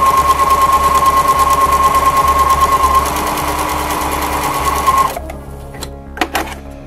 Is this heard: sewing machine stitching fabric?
yes